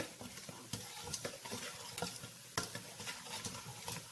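Frozen cubes of cilantro, onion and garlic sizzle in a soup pot while a utensil stirs and taps through them, giving a steady soft frying hiss broken by faint scraping knocks.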